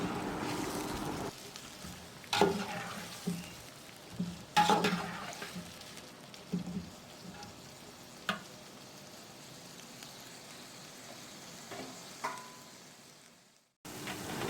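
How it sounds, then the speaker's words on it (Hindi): One kilogram of onions sizzles and browns in a pot for a homemade basmati biryani, a low steady frying hiss broken by occasional louder stirring scrapes, close and without talk. "यहाँ पर जो कि हमने लिया है 1 किलो यानी 1 kg अनियन। और फिर इसको हमने 7 से 8 मिनट के लिए ब्राउन करना है।"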